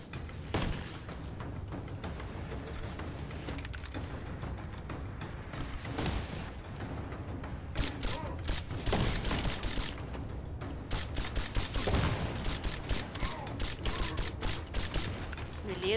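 Repeated explosive-round gunfire in Rise of the Tomb Raider, fired in scattered bursts of sharp shots against a steady game background across the whole stretch, some shots loud and close, with someone talking over the action.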